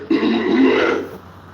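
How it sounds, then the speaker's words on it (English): One man clears his throat during a live true-crime case update stream, a single close, rough rasp lasting about a second before fading out, with no speech around it. "let me clear my throat for this"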